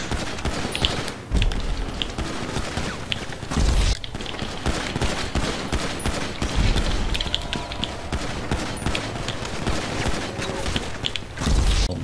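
Dense gunfire in GTA V, rapid bursts and volleys crackling almost nonstop, with occasional louder booms breaking through the steady barrage.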